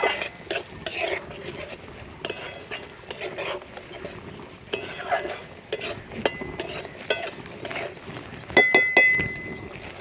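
Potol and prawn masala being stirred and sautéed in a pan, with quick clattering spoon scrapes against metal over a soft sizzle, busy and close, with no talking.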